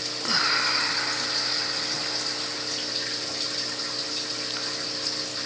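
Water dripping and trickling from a small leak on a 220-gallon aquarium into the sump below, a steady close splashing wash with a faint pump hum underneath and no talking.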